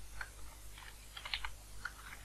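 Fingers tap out a short burst of keystrokes on a computer keyboard, light clicks clustering together with brief pauses, close and quiet over a low background hum.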